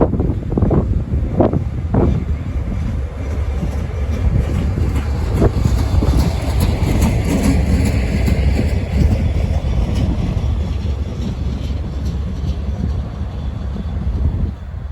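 Stack train led by a pair of GE locomotives passing at Winton Place, Cincinnati: a broad rumble and clatter of rolling freight under heavy wind buffeting on the microphone, steady throughout with a few sharp knocks early on.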